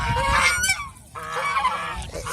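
Domestic geese honk loudly and close by in a flock, with several overlapping harsh calls in a short burst, a brief lull, then more honking; a female goose is present among them.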